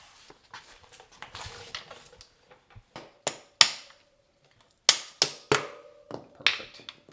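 A hammer pounds a socket to drive out a wheel bearing on a YZ250FX dirt bike wheel. Soft knocks come first, then about six sharp, ringing metal strikes at uneven intervals, fairly close and with no talking.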